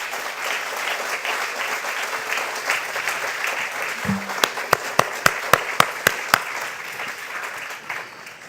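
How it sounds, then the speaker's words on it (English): Crowd applause at a hospital groundbreaking ceremony, a sustained patter of many hands, joined midway by a run of sharp, evenly spaced single claps standing out near the front before easing off. "we need to give him a real good, heavy, hard round of applause for what he is doing here at the hospital."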